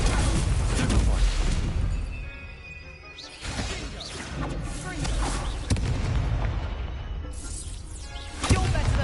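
Spell blasts in the video game Hogwarts Legacy, Confringo and Incendio, loud booming and crackling explosive bursts in quick succession over game music and effects, with sharp impacts near the start and end and a player's voice talking throughout.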